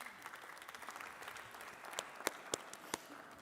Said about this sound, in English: Once more, please, another hand clap for Bridget.